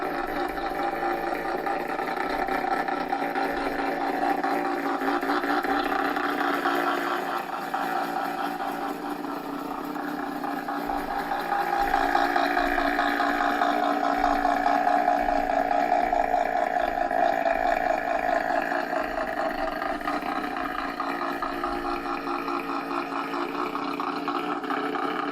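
An all-wheel-drive custom car at the SEMA show runs with a steady, throaty, rumbling idle for the whole stretch. The engine swells slightly in the middle and is heard with no talking over it.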